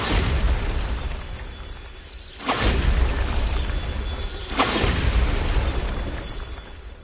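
Bombarda blasting spells in the Hogwarts Legacy video game, two heavy explosive bursts a couple of seconds apart, each a loud broadband crash and rumble over constant game ambience.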